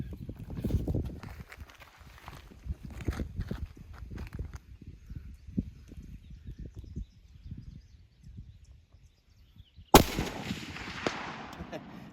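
M1 Garand rifle fired from a kneeling position at a steel target 300 yards away on an outdoor range, giving one sharp, loud crack near the end after a long stretch of low rumbling wind and handling noise.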